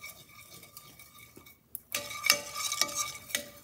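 Vegetables for a Thai coconut cream soup frying in a pan with scraping stir strokes; quiet at first, then a louder sizzle breaks in partway with repeated utensil scrapes.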